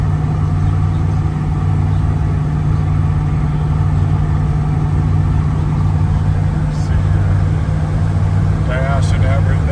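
1971 GMC K1500 truck engine while driving at around 60 with bigger tires, a loud steady low drone heard from inside the cab, with talk over it.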